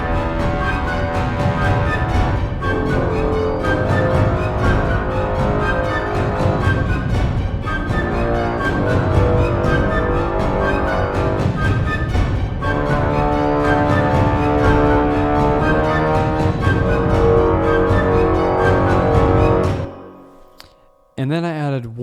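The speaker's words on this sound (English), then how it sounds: "Layered it up, trombone," Dense, loud brass ensemble with low trombone and tuba lines layered together, playing continuously before cutting off abruptly near the end.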